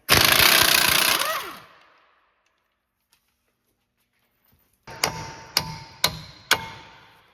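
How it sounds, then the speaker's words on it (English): A loud burst of machine noise fades away, then after a pause four sharp metallic hammer strikes ring out at a steady, evenly spaced rhythm, hammering out spline bolts on a 2009-2017 Chevy Traverse transfer case. "So you got to hammer them out."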